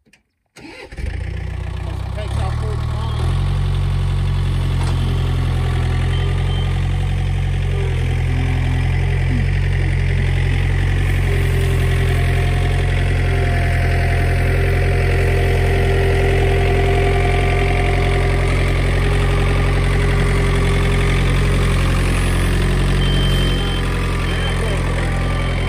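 A tractor engine idles at a farm pond in winter, starting up with a sharp kick and then settling into a steady, close, low mechanical rumble that continues unbroken to the end.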